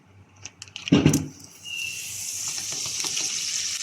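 Unsalted butter drops into a hot pan of oil, with a clatter and splash followed by a bright, steady sizzle that builds and holds close by, with no talk.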